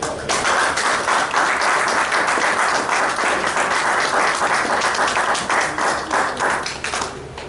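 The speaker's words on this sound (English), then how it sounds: "let's bring him on with a warm round of applause" A warm round of applause from an audience welcoming a speaker on stage, loud, dense and continuous clapping throughout, fading slightly toward the end.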